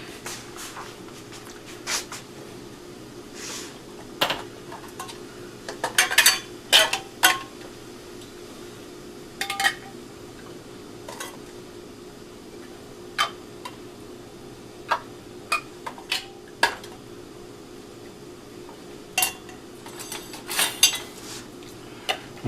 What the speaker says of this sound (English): The rings go on just a snug, back off, and then turn it till it just touches.